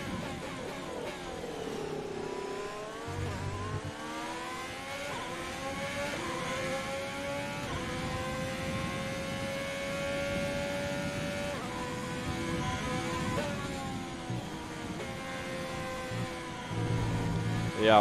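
A Formula 1 car engine in the F1 2020 racing game runs at a steady high-pitched whine that rises and falls with the revs throughout, loud and continuous with no talk over it.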